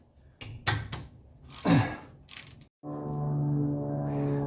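Differential bolts loosened on a 1984 Mercedes 300TD: a few close metallic clicks and ratchet-like clacks, a scraping rattle, a brief silence, then a steady droning hum.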